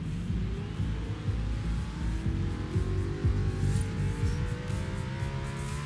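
Audi RS4 Avant engine in the racing game Forza Horizon 3, a steady loud growl with rising revs across the whole stretch, with no talk over it.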